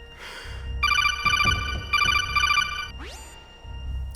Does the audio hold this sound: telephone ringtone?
yes